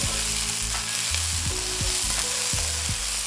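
Breadcrumbs and oyster mushroom pieces fry in butter for a green bean casserole topping, giving a steady close sizzle with a low hum beneath and a few soft clinks of stirring.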